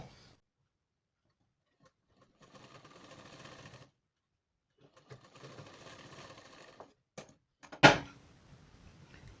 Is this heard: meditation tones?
no